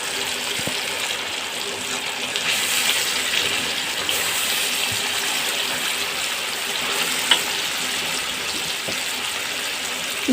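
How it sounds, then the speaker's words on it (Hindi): Minced mutton sizzles in ghee and masala in a karahi, a steady loud frying hiss with occasional faint clinks. "अब हम कीमा शामिल कर देते हैं इसमें।"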